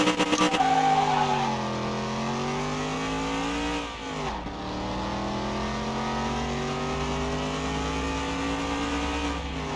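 A car engine in Car Mechanic Simulator 2021 revs hard, its pitch climbing steadily, dropping sharply as it shifts around four seconds, then rising again in a loud sustained whine with no talk.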